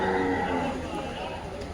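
A water buffalo lows in a deep, drawn-out moan, close by at a livestock market, with people talking over it.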